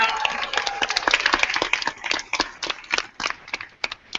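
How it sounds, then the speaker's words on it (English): Conference audience applause at the 2015 Oregon Summit for Hillsboro, starting as a full burst of clapping and thinning into scattered individual claps from a moderately sized crowd. "So a big round of applause for Hillsboro."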